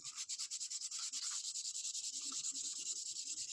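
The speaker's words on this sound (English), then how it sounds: "I rub it until the friction makes my hand hot" A wooden knitting needle is rubbed quickly with black sandpaper, producing a fast, steady back-and-forth scratching rhythm, close and fairly quiet, with no talking.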